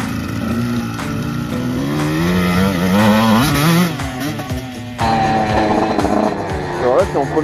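A motocross dirt bike engine pulls in first gear, its pitch rising and falling through several sweeps, loud and close, with a break near the middle. Talk can be heard over it.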